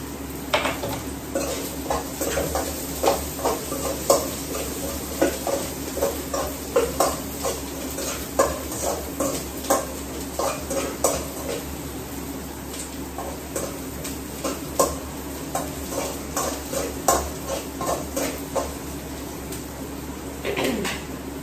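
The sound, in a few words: green chillies frying and being stirred in a pan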